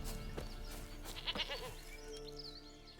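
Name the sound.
goat bleating in video game The Witcher 3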